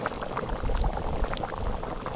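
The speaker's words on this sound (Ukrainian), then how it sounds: "Ось все заливаємо водою." Water poured into a cauldron holding pork knuckle and potatoes over a low fire outdoors at a holiday retreat, a steady broad gushing splash with bubbling, continuous and fairly loud for about two seconds, with no talk.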